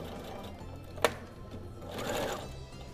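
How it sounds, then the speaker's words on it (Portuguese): Domestic sewing machine running a stitched seam along a marked line while making a custom office kit, a short sharp click then a quieter mechanical whir, faint under room noise with no talking. "passo uma costura em cima do risco que eu fiz"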